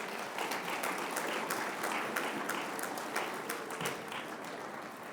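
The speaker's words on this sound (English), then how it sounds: "Can we give them a round of applause?" Audience at a Denver mayoral candidate forum giving a round of applause, a dense, even wash of clapping heard from a distance, steady throughout and slowly fading.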